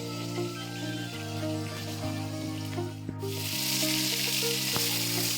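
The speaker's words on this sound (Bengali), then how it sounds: "এখানে মাছের মুড়ো আর লেজাটিকে ভালো করে ভেজে নিচ্ছি" A fish head and tail fry in hot oil, giving a strong, crackling sizzle against a steady hum, with the spitting growing louder and brighter partway through.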